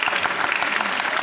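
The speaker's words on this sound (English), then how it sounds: "a little round of applause" A comic con audience breaks into brief, dense applause, a steady patter of many hands clapping at close range, with a faint voice under it.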